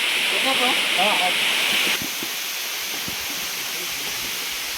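Rushing water roars at the Bheemudu Padam waterfall, a loud, steady nearby wash heard continuously, with people talking over it during the first two seconds.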